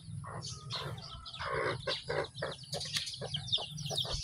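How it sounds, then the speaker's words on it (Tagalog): Pet chicks and chickens kept beside a farmyard pen peep and cluck in a busy, continuous chorus, close by with no talk over them. "Alaga kong sisiw."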